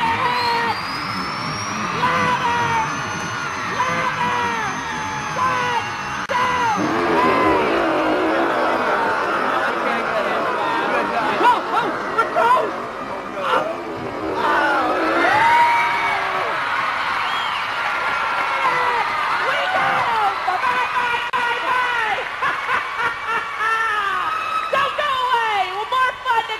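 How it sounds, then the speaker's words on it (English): Big kids' crowd at an awards-show arena roars with cheering, whoops and screams, a dense, sustained wall of noise for the whole stretch, with clapping and foot-stamping likely buried inside. "Stamp your feet and clap your hands"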